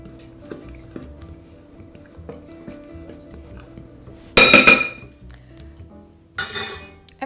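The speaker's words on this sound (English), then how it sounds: "So I'm just gonna add this in the dough and just give a quick stir." Salt being stirred into bread dough in a bowl for Turkish pita, heard as scattered soft clinks and scrapes, then two brief bursts of louder utensil-on-bowl clatter, close and without talk.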